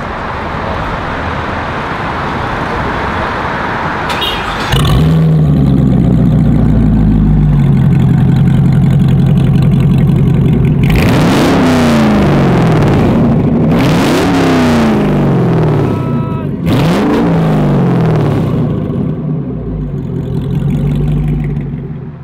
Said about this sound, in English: Let's turn her on and first of all see how the Devel 16 sounds.